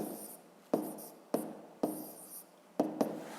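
A pen scratches out handwritten numbers for a fifth-grade maths exercise, several short strokes and taps close to the microphone with quiet gaps between them.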